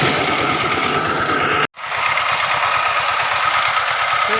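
A tractor engine runs in a farm field with a steady, pulsing mechanical chug that cuts out for a split second, then carries on at an even, fairly loud level.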